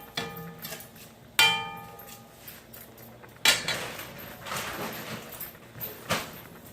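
Rice and water stirred together in a cooking pot, with a utensil clinking and knocking against the pot in a few sharp strikes amid soft scraping; no talking.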